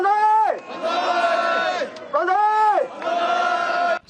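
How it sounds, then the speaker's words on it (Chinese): Hundreds of supporters cheer and shout together outside a courthouse on hearing an acquittal verdict, a loud sustained crowd roar in several swelling waves with brief dips between them. "伫法院外口数百支持者听到法院宣判无罪释放，原声欢呼"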